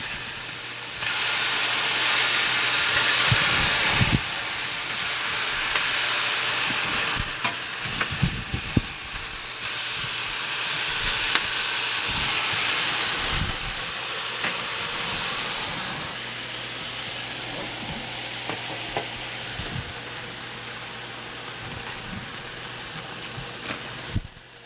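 An Okie onion burger hisses loudly on the griddle after being flipped, a broad steady sizzle that swells and eases in long waves, close by and without talk, with occasional scrapes and taps.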